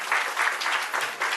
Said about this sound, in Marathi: तर त्यांच्यासाठी सुद्धा जोरदार टाळ्या.